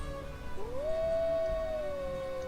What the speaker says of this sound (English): the howls seem to get louder